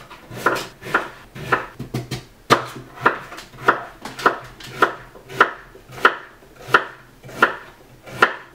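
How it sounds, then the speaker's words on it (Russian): Knife chopping beetroot into pieces on a board, with about a dozen sharp, evenly spaced chops up close, each one loud and clear with no talk. "Свеклу нарезаем на удобные вам кусочки."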